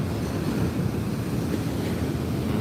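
High waves break on the beach at Pantai Muaro Bayang in Pesisir Selatan, West Sumatra, heard as a continuous, loud roar of surf mixed with buffeting wind noise, with no voices.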